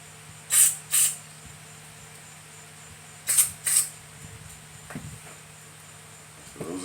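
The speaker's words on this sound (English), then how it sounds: "We'll still spray them out with carb cleaner" Two pairs of short, sharp aerosol spray hisses of carb cleaner, close by, separated by a pause, cleaning the carburetor jets of a Honda XR100 dirt bike, with faint handling clicks afterward.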